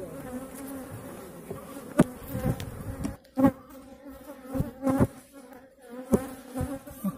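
Honey bees drone steadily around an open hive during queen rearing, a close, continuous buzz broken by sharper passes and louder flybys of individual bees near the microphone.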